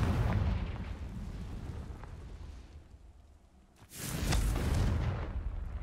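Fiery Confringo spell blasts in Hogwarts Legacy, a loud rumbling explosion followed by a quieter lull, then a second sharp burst near the end with crackling roar.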